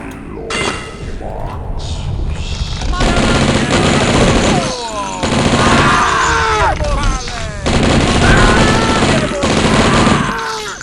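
Rapid bursts of gunfire tear through cultists in the DOS shooter Blood, loud and dense in several clusters, with groans and shouted voices mixed between the volleys.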